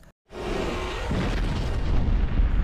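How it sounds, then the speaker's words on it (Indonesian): A titan dragon crashes into a mountain and explodes in an animated film scene, a loud booming blast after a brief silence, followed by a long rolling rumble of debris and echoing detonation. "sang naga remnya blong dan langsung menabrak gunung dan meledak"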